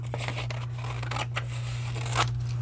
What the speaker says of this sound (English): Cut, cut, cut.